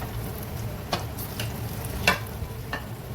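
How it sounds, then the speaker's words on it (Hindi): Pakoras fry in hot oil, giving a steady close sizzle with a few sharper crackles and stirring scrapes, and no voices. "इस तरह मैं सारे पकौड़े फ्राई कर लूँगी"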